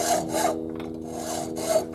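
Gentle hand-saw strokes cut through wood in a steady back-and-forth rhythm, three or four rasping pushes and pulls close by with brief pauses between them.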